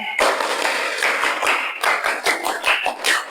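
Schoolchildren in a classroom clap in unison and shout a cheer together, a burst of voices followed by a run of sharp group claps in an uneven rhythm, close and loud.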